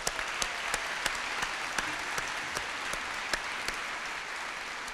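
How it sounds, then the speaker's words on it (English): Audience applause at an Asian Pacific American Heritage Month award presentation, a steady wash of many hands clapping at moderate level with a few sharper individual claps standing out, no talk over it. "Let's give them a round of applause."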